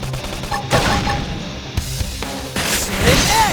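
Gunfire during a battle in the video game Xenoblade Chronicles X: bursts of shots and crashing impacts mixed with mechanical clatter and a brief whooshing effect, loud and chaotic.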